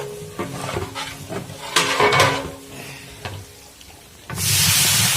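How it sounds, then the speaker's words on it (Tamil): Onions fried in a large pot for a 25 kg batch of chicken biryani, with metal scraping and clanking as they are stirred, ending in a loud burst of sizzling. "வெங்காயம் நல்லா வதங்கிடுச்சு."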